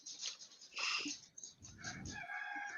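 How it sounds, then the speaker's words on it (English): A neighbour's rooster crows and clucks in the background of a village morning, faint and a little distant, in short bursts with no speech over it. "it's a rooster my neighbor bought"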